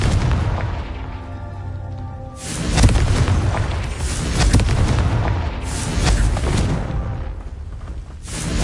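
Heavy explosive blasts from the Confringo fire-bolt spell in Hogwarts Legacy, a loud booming burst followed by rolling rumbles and repeated crashing impacts that swell and fade over several seconds.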